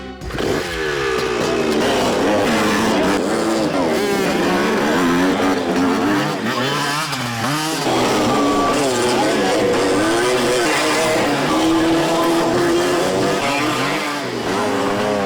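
Stunt motorcycle engines at a biker stunt school rev up and down repeatedly, loud and close, with voices talking over the whining, surging motors.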